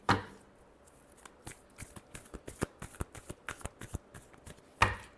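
Tarot cards are shuffled by hand in a rapid run of crisp riffling snaps up close, dense through the middle and ending in a louder final burst, with no talk.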